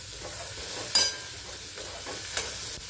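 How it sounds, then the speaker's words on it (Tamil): Turkey berries sautéed with asafoetida in a pan, giving a soft ongoing sizzle broken by a few quick stirring scrapes, close by and quiet, with no speech. "நல்லா வதங்கட்டும்"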